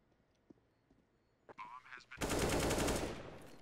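Automatic rifle fire in Counter-Strike: Global Offensive during a professional esports match, a sustained loud rattling burst arriving after a few quieter clicks and shots.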